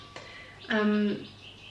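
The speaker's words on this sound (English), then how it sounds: "they hear the birds in here, and you can hear them tweeting back and forth" Small birds tweeting outdoors, picked up in the background of an indoor recording; a single clear chirp of about half a second stands out alone against quiet room tone.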